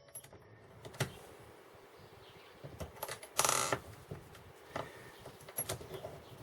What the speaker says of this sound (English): I can crank out cartridges that are nearly unobtainable on a kind of an assembly line.